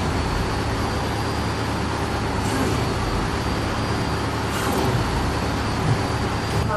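A vehicle drives in the video game Switchblade, producing a loud, continuous broadband engine roar with a steady drone and only small swells, and no pauses.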